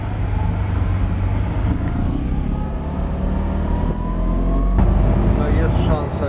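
A Ford racing car passes close by on a road near Charlotte, a loud engine rumble that swells as it nears and shifts pitch going past, with other traffic noise around it.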